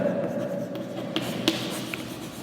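Marker or chalk writing on a board during a maths class on linear equations, with soft strokes and a couple of sharper taps under low room noise and a faint talking voice.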